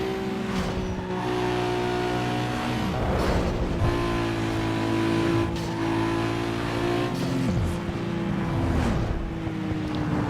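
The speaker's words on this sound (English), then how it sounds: "the sounds of the cars driving by" Race cars in the video game Need for Speed Underground 2, with loud continuous engine roar and several cars sweeping past with rising and falling pitch, revving throughout.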